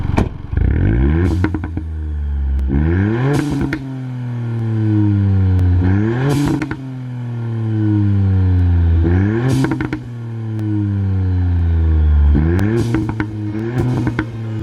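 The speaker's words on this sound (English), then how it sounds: "I have to get a shot of this Cobra exhaust system because it sounds so good." A modified Ford Fiesta ST (MK8) with a Cobra exhaust revs repeatedly, loud and close, each rise in pitch followed by a crackling drop back to idle.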